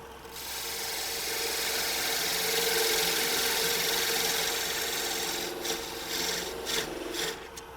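A CBN cutter scrapes against a wooden vase turning on a lathe, a continuous rasping, grinding cut that runs steadily and then breaks into several short rubbing strokes near the end, with no talk.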